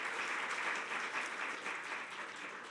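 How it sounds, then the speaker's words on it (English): A workshop audience applauds for Morgane, a dense, steady wash of many hands clapping together at moderate loudness for the whole stretch, with no talking over it. "Can we get a round of applause for Morgane?"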